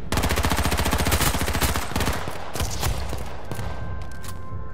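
Rapid bursts of close, loud gunfire in the online shooter H1Z1 on PS4, with fast repeated shots that give way to scattered single reports and a quieter tail.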